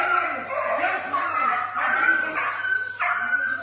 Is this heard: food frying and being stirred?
no